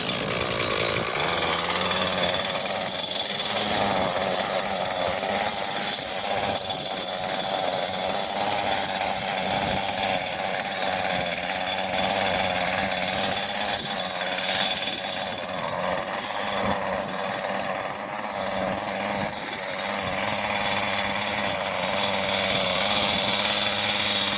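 A small gasoline engine runs steadily with the choke off, a loud continuous buzzing drone close by that holds without stopping.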